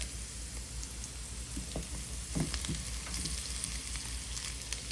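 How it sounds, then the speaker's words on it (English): Pork chops frying in a pan for goulash give a steady, close sizzle with soft crackles and a few brief clatters of handling, no talking. "I'm gonna add my chops now."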